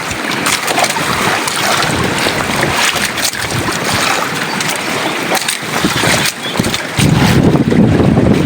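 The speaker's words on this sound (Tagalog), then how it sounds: "lakas ng hangin at saka alon" Strong typhoon wind roars across the microphone while waves crash continuously near a small island, a loud, unbroken wash of noise with surging gusts throughout.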